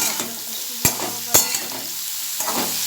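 Snake gourd fries in a pan under a constant sizzle, punctuated by a few sharp clacks and scrapes of a utensil stirring it.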